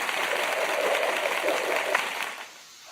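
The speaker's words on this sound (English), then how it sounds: "Let me give you the applause" Recorded applause played by a streamer, a dense crowd clapping sound that holds steady and then fades out near the end, with no talking over it.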